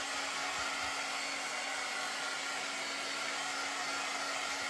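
A hair dryer blows steadily and close by with a constant whooshing hum, drying painted pumpkins with no pause and no talk.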